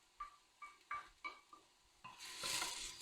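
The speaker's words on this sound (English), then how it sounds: "Saute the garlic until it's slightly brown." Chopped garlic added to softened onion in a pan: several sharp utensil taps and scrapes in a steady rhythm, then a brighter sizzle swelling up and holding near and fairly loud.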